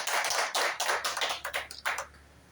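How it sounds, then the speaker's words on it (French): A small audience at a student's thesis defense applauds in scattered bursts that thin out and fade within a couple of seconds. "Nous demandons à l'assistance de vouloir applaudir l'étudiant pour sa présentation."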